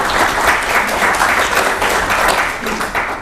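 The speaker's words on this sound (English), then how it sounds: "can you please give me an applause?" An audience at a book launch for The Unresolved National Question gives Mr. Basil Brown dense, steady applause that fills the room loudly from start to finish.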